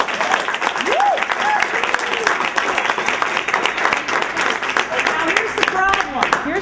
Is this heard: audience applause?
yes